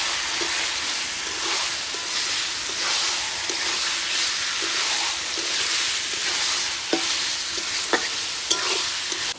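Meat fries in oil in a pan with a continuous loud sizzle, while a utensil scrapes and stirs it in occasional light knocks.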